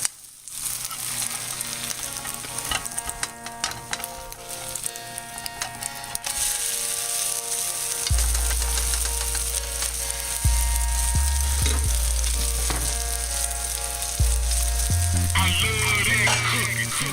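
A chicken omelet sizzles steadily in a frying pan, a continuous hiss with scraping and clicking as it is worked and flipped, and deeper knocks from the pan later on.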